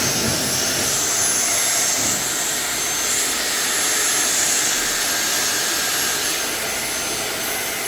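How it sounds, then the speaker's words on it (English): A vacuum cleaner with its hose in the lint receptacle of a Whirlpool LER5644JQ0 dryer roars loudly and steadily at close range, a constant rushing whine with no pauses and no talk. "You can hold the vacuum, just power it on."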